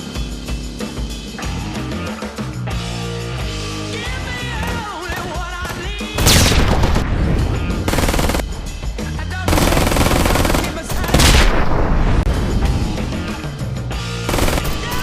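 Mounted turret gunfire in the video game Ride to Hell: Retribution, loud sustained machine-gun bursts over a dense game soundtrack, with heavier booming volleys breaking through in the second half.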